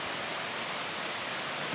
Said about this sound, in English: as you can probably hear the creek running.